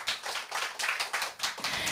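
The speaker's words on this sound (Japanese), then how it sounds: "手拍子ありがとうございます" Audience at a small live music bar clapping along in time, a crisp, regular beat of many hands at a steady moderate tempo, close and clear with no talk.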